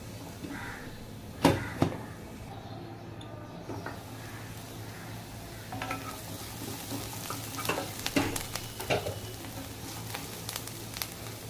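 Onion sautés in a pan with a soft, low sizzle, punctuated by sharp clinks and scrapes of stirring, a couple of loud knocks early on and a busier run of stirring toward the end.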